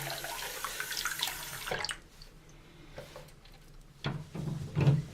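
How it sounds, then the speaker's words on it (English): Tap water rinses dust off an AMT U.S.S. Enterprise model kit part during paint prep, a soft steady splash and trickle at close range that stops partway, followed by faint handling noises. "And I'm going to just rinse off some of the dust here"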